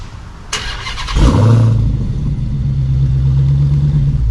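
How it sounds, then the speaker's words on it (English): A Dodge Challenger SRT Hellcat Redeye engine cranks and catches with a sharp burst, then settles into a deep, throaty rumble from a dual exhaust, loud and close. "And this has the dual exhaust, which let's go ahead and take a listen to."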